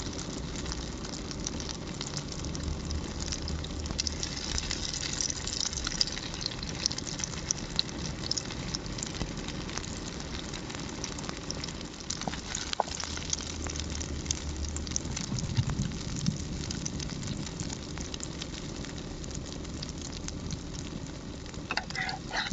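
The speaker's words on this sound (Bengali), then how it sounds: "তেলটা গরম হলে এবারে ডিমটা ঢেলে দিতে হবে।" Hot oil sizzles and crackles steadily for a long stretch as an egg fries, a soft constant frying hiss with scattered pops and no talking.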